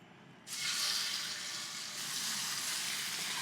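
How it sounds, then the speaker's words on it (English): Salmon searing in olive oil in a pan starts with a sudden loud sizzle that stays steady and close, with no talking. "And then the salmon goes right into the pan."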